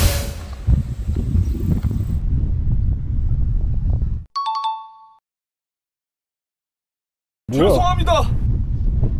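Strong gusts buffet the microphone in heavy, close rumbling bursts, cutting out to near silence before another loud gust returns; a brief spoken apology sits under the first burst.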